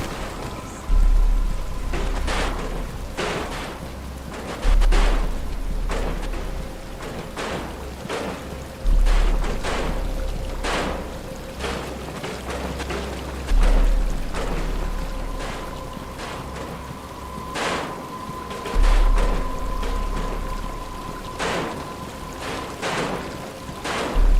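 Steady rain falls across a Batman Arkham game cutscene, a continuous hiss of drops with recurring low rumbles like distant thunder and scattered sharper patters, heard without speech.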